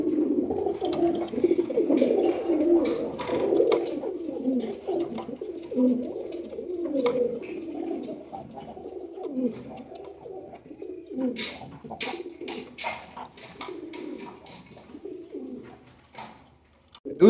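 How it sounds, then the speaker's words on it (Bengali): Giribaz pigeons coo in low, rolling calls, repeated close by and fairly loud at first, then fading into softer scattered coos amid faint clicks and rustles, with no talking. "দুই জোড়া গিরিবাজ কবুতর রয়েছে।"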